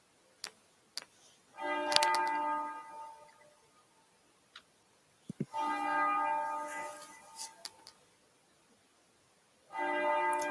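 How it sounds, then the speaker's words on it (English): Church bells ring in repeated bursts separated by pauses, with resonant tones and occasional sharp clanks, moderately loud. "Are the bells really loud"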